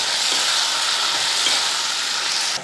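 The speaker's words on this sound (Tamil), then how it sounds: "இந்த மாதிரி நம்ம தக்காளி வெங்காயம் பூண்டு கருவாடு எல்லாத்தையும் இது போல் வதக்கணும்" Tomatoes, onion, garlic and dried fish sautéing with a little salt in a pan for a curry, a loud steady close sizzle with a soft stirring undertone and no voices.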